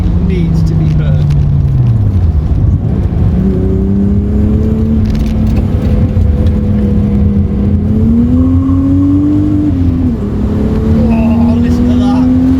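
Supercharged VW Golf Mk2 with a VR6 engine accelerating hard on a mountain pass, a loud, continuous engine drone rising and falling in pitch through gear changes, close to the car.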